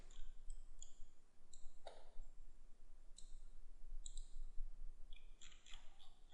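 A computer mouse clicks while working in LS-DYNA engineering simulation software, giving crisp, fairly quiet single clicks spaced every second or so over a steady low hum.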